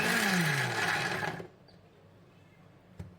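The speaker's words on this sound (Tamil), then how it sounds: "அதையும் மிக்சி ஜாரில் போட்டு நான் வந்து பார்த்திங்கன்னா பல்ஸில் வந்து ஒரு 2 செகண்ட் வந்து அரைச்சி எடுத்துக்க போகிறேன்" A mixer grinder pulses peeled garlic in its jar in one loud whirring burst of about a second and a half, then cuts out with the motor winding down, leaving quiet and a faint click.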